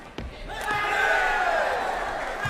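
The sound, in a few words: sepak takraw match crowd cheering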